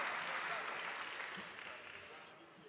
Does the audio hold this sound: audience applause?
yes